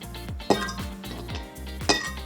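Ice tongs grab and drop ice cubes into a glass for a drink, two sharp glassy clinks standing out over repeated softer knocks and clatter.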